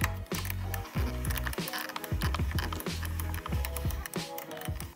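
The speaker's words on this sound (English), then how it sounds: "we're gonna go ahead and tighten the bolts up onto our little battery holder here" A ratchet wrench tightens bolts on the battery holder bracket of a 2019 Ford F150 5.0L, with rapid repeated clicking pawl strokes in short bursts, close and fairly loud.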